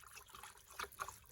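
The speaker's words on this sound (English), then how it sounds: "Bit of pond water added to the bucket." Pond water trickles from a container into a bucket while mixing a koi pond treatment, a faint, close dribble with a couple of small splashy spikes.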